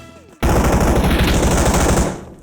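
Rapid automatic gunfire from the mobile battle royale game PUBG Mobile bursts in loudly after a brief quiet start and hammers on steadily for about two seconds before easing off.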